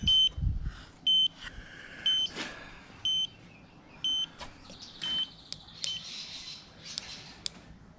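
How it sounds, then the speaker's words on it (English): The tyre pressure monitor on a Suzuki Boulevard motorcycle sounds short, evenly spaced high beeps, about one per second, with faint clicks and handling noise between them. "it's beeping."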